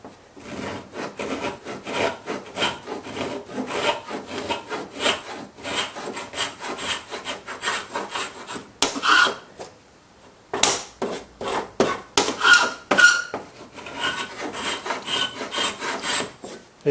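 Rasping, rhythmic scraping strokes as paint and old glazing are stripped from a wooden window sash, steady and close for most of the stretch, with a short pause before the scraping resumes in bursts.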